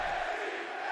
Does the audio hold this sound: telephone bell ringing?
no